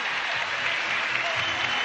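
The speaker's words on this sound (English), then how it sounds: "Gets a lot of applause." A large arena crowd at the 2006 Commonwealth Games gymnastics apparatus finals applauds after a routine, a broad, even wash of clapping heard at a distance with no break.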